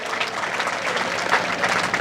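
Rally crowd in Sheohar, Bihar clapping to welcome AIMIM leaders, a dense steady wash of applause that stays loud and even throughout, with no clear voices standing out.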